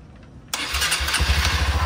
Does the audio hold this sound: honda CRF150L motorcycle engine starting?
yes